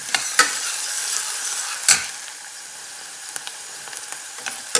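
Curry leaves dropped into hot oil with onion for a bottle gourd sabzi, a soft continuous sizzle broken by a few sharp spoon clinks and stirring taps, nobody speaking.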